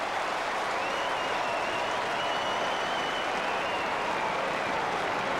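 A big football crowd at a 2005 Wizard Cup Australian rules match between Melbourne and Carlton hoots and roars in a steady, distant wash of noise, with faint whistling cries riding over it throughout.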